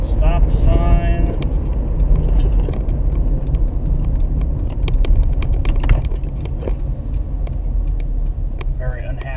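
A car engine rumbles steadily at close range through a rough downshift into second gear, with a brief rise in engine note. A person talks over the engine drone.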